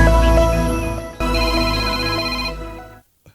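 A cellphone ringtone plays loud and steady as a repeating melodic tone for about three seconds, then cuts off abruptly into silence.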